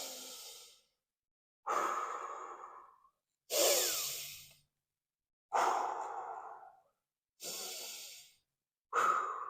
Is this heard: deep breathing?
yes